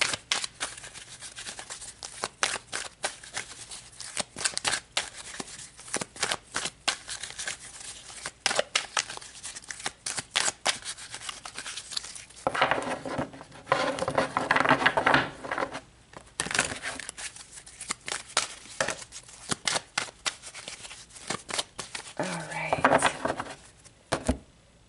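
Tarot cards are shuffled by hand in a quick series of riffling, flicking bursts, with rustling card handling and occasional pauses, close and dry with no speech.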